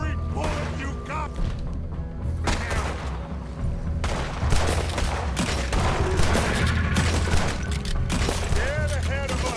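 Rapid, dense gunfire at a legendary alligator in Red Dead Redemption 2, many overlapping loud shots and cracks in quick succession, with spoken voices mixed in among the volley.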